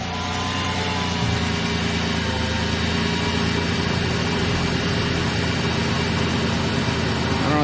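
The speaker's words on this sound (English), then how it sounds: "Compressor is on." A 2006 Nissan Murano engine runs steadily with the A/C compressor engaged, giving a continuous, even drone and hum heard close by throughout.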